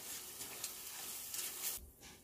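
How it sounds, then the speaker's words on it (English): Rice vermicelli is stirred into lamb méchoui in a pan, giving a soft, steady sizzle and faint scraping of the mix being turned, quiet and close. "I'm just gonna put it in there and mix it."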